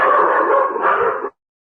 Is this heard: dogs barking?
yes